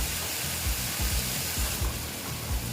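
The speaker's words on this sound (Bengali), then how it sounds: "দেখো ভালো মতো একটু মশলাটা কষিয়ে নিচ্ছি" Spice paste fries in a pan for a Bengali tangra fish curry, a close hissing sizzle with soft bubbling pops throughout a short stretch.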